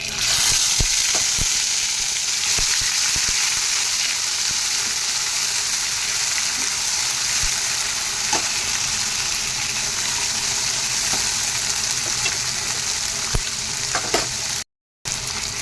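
A paste of ground ginger, dry chilli and cumin fries in a pan for a Bengali fish curry, a steady bright sizzle that holds for the whole stretch with occasional stirring clicks and scrapes.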